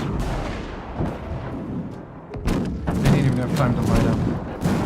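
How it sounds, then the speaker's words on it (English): Rumbling, booming gunfire and artillery-like blasts in the video game Victoria 3 roll on continuously while someone talks over the noise. "Listen to the gunfire."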